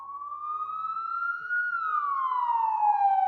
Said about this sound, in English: As sirens got closer